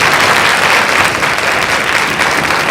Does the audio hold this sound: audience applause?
yes